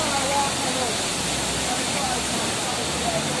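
Rough water at Roaring River in Jamaica pours in a dense, steady roar of rushing noise that fills the whole moment at close range.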